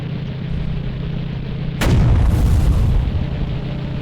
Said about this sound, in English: you see we're getting fired on by an AT gun